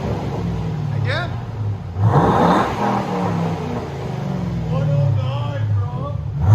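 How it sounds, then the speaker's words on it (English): A 2005 Ford Mustang GT with a Flowmaster Outlaw dual exhaust revs loudly and close by in repeated rising bursts, each settling back to a deep rumble, while people talk over it. "That's how old Mustangs should sound."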